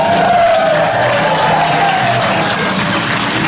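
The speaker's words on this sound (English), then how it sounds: "Cheer for that, all right?" A church congregation cheers and whoops during a Christmas service, a loud, dense wash of crowd noise with shouts and children's voices mixed in, sustained evenly throughout.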